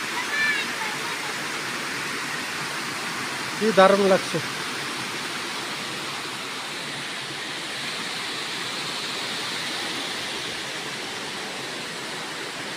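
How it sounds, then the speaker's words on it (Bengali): A distant waterfall heard from high above gives a steady broadband rush throughout, with a person speaking briefly over the constant roar. "এই দেখেন, এটা ঝর্ণা,"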